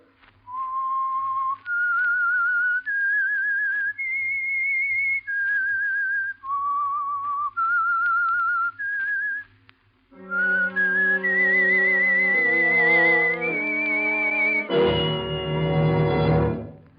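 A clear, melodic whistled tune, the opening theme of the 1947 radio drama The Whistler, rising and falling in long sustained notes, followed by a swelling orchestral passage that ends in a loud chord.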